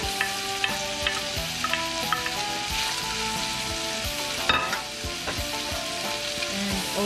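Onion, carrots and garlic fry in a pot for Filipino-American sopas, sizzling steadily and loudly at close range, with scattered stirring clinks and scrapes throughout.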